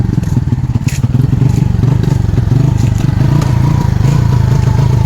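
Motorcycle engine idling roughly during a test run after work on a dirty fuel injector and fuel pump, a steady low uneven chug with clattery irregular pulses, close and loud throughout.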